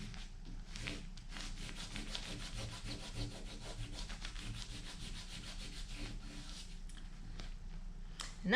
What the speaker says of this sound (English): I am literally just going to scrub it